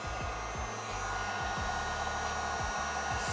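A heat gun blows steadily while paint protection film is applied to a car fender, making a constant close airy whoosh with a mechanical hum underneath and no talking.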